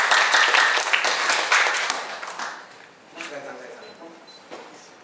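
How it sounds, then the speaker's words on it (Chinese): An audience bursts into applause at a health and nutrition talk, with a dense wave of clapping that fades over a few seconds, followed by scattered lighter claps and talking beneath. "掌声鼓励"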